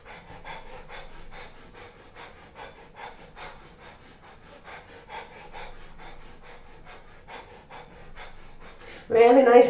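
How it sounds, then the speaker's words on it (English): Breath of fire, a rapid rhythmic breathing exercise during a kriya yoga session, comes as a fast even series of forceful nasal exhales, close and steady, ending in a louder burst of breath. "If breath of fire is not working, remember you can just adjust it to something that works a bit better for you."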